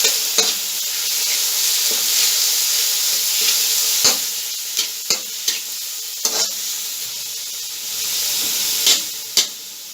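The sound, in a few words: chicken sizzling as it is added to the frying pan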